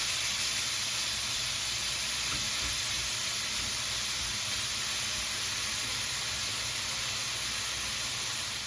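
Beef spread out in a hot pan searing over medium-high heat for a stir fry, a loud continuous close sizzle and hiss that holds steady and tapers off slightly at the end.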